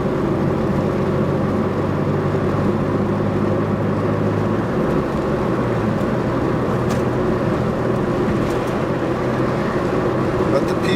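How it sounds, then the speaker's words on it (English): A car engine with its muffler and exhaust removed drones loud and steady throughout, its low rumble shifting slightly in pitch while someone talks over it. "Notice my car sounds loud. It's because I don't have any exhaust on it."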